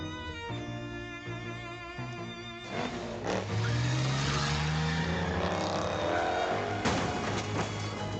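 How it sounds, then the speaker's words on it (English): In a video game, a car drives off down the street dragging a huge vault door tied behind it, with a loud rising engine roar joined by scraping and grinding noise over a steady broadband rumble. "Tie the vault to a car and drive down the street."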